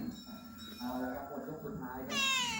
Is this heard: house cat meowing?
yes